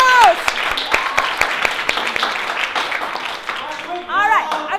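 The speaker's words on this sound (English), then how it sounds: "A big round of applause." Audience applause fills a lecture hall during a Harvard Extension keynote, dense steady clapping with a few cheers and whoops on top, swelling again near the end.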